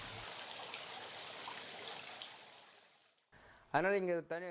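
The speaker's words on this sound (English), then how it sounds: "we continuously add fresh water to supply them with oxygen" Fresh water runs steadily into hatchery tanks holding fish fingerlings, a continuous broadband trickle and splash for about three seconds before it fades, followed by a brief burst of nearby talking.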